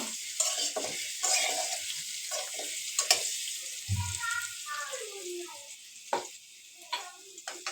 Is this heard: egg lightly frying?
yes